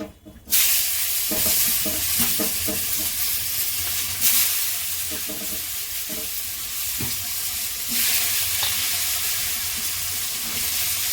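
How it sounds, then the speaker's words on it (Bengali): Cauliflower pieces fry in hot oil with turmeric, a loud, steady sizzle running throughout, broken by scattered clinks and scraping stirs in the pan, with no talking. "তেলের মধ্যে হলুদ দিয়ে দিচ্ছি, তাহলে কপিটা সুন্দর রং হবে। এক একটা করে ভেজে নিচ্ছি।"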